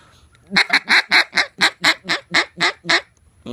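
A duck call blown in a rapid run of about a dozen loud, harsh honking calls, evenly spaced and close, with nothing else heard.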